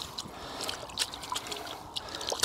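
Leek roots are swished and rinsed in a bucket of water, giving soft, irregular splashes and trickles up close with brief sloshing bursts.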